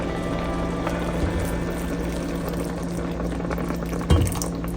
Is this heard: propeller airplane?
no